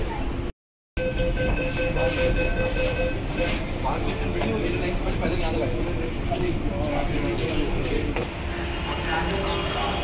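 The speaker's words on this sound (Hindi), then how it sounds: "आ चुकी मेट्रो" A Delhi Metro train rumbles steadily into the platform with a loud, continuous roar and screech of metal, a voice speaking briefly over it.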